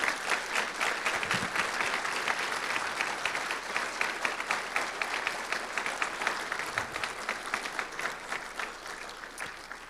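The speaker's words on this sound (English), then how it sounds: "Please give these teachers of influence a big round of applause." Steady, dense applause from a school audience honoring teachers, sustained evenly for the whole stretch without speech.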